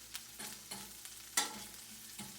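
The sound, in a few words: chorizo starting to sizzle in a pan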